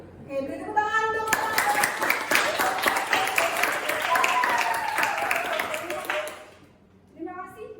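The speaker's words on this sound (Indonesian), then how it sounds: "Oke, beri tepuk tangan dong." A room of teacher-training participants at Universitas Negeri Malang breaks into lively, close clapping for several seconds, while a voice talks before and over it; the applause tapers off near the end, then speech resumes.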